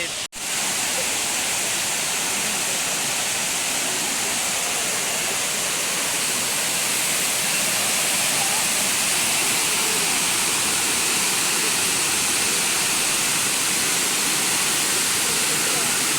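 Elephant Falls in Shillong, Meghalaya, pours in a steady, dense rushing roar that stays loud and close without a break for the whole stretch.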